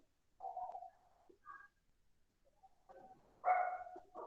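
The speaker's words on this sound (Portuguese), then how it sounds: "Tem um cachorro que resolveu latir aqui perto." A dog barks nearby in a quiet indoor setting, with a short bark, a pause of small yips, then a louder burst of barks near the end, and no talk.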